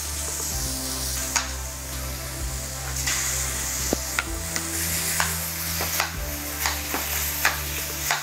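Beef tenderloin hitting a hot pan of onions and garlic, a continuous close sizzle with a low hum beneath and scattered clicks and scrapes of a utensil stirring, no one speaking.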